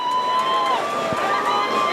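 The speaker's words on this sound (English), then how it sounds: "Well, the crowd love it. The Rowville faithful stand to their feet." Spectators cheer and shout at a women's football grand final, a continuous crowd roar with higher whistles and calls riding over it, steady throughout.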